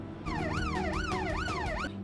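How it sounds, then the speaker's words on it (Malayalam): An ambulance yelp siren wails in rapid rising-and-falling sweeps, loud and close, about three quick cycles over a low engine rumble, with no talking. "ഇപ്പോൾ കേട്ട സൗണ്ടാണ് യെൽപ്പ് ആംബുലൻസ് ഡ്രൈവർ രോഗിയുമായി വരുന്നുണ്ട് എന്നറിയിക്കുന്ന സയറിനാണ്"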